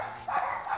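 A dog barks behind a wall in a town centre, a few short, muffled, mid-pitched yips heard at moderate distance with no talk over them.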